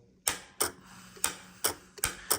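A new push-to-talk relay in a Harvey Wells TBS-50D transmitter snaps sharply as the mic is keyed, giving six crisp, close clicks at uneven intervals over a faint hum.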